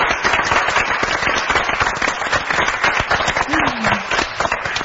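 A crowd at a street music festival in Tbilisi applauds the musicians, a loud, dense, continuous clatter of many hands clapping close by, with a brief voice or whistle rising faintly through the noise.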